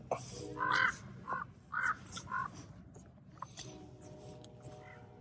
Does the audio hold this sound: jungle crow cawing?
yes